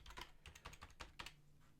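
Rapid keystrokes on a computer keyboard as a password is entered while setting up a new domain controller server, about a dozen close, crisp clicks in quick irregular bursts with no talk.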